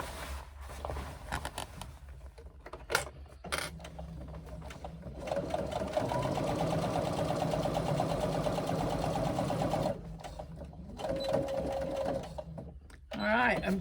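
A sewing machine stitches a waterproof swim bag in a long steady run of about five seconds, with shorter bursts before and after and some speech and handling noise around it.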